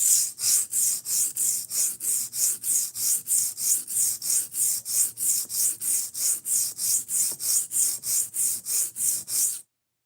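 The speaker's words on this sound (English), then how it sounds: "unfortunately we need to grind down the whole edge until that section's fixed" A knife edge being ground down during sharpening makes a steady run of about two dozen even, rhythmic rasping strokes, bright and close, for nearly ten seconds before stopping abruptly.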